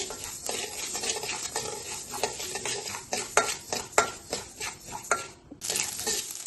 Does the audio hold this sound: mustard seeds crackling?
yes